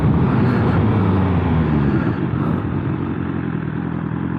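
A BMW S1000R motorcycle brakes hard from about 80 km/h, its engine roar and wind rush fading steadily as the bike slows, heard close from the rider's position without speech.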